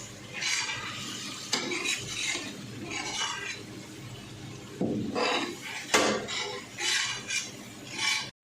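A spoon works chilli powder through the mix in a pot for vegetable biryani, making quiet, close scraping and shuffling strokes in irregular bursts with a couple of sharp knocks against the pot.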